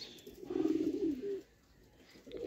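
A Sialkoti rooftop pigeon gives a soft, low coo close by, a rolling call lasting about a second, followed by quiet and the start of another coo.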